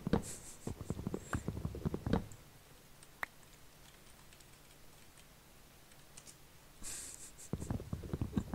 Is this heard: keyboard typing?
yes